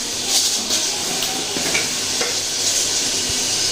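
Five-spice panch phoron, bay leaf and dried chili tempering in hot oil for dal, a loud continuous sizzle and hiss with a few faint stirring clinks, close and without talk.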